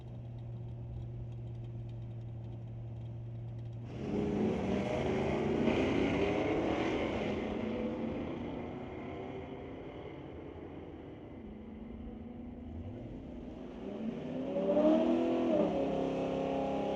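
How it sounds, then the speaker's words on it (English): Drag race cars, a Dart and a Mustang, at a strip: a low idle hum gives way to a sudden loud engine roar that fades, then another rising rev near the end. "The SBB Racing Dart going up against the Buick Ford Motor Canada Thomas Mustang"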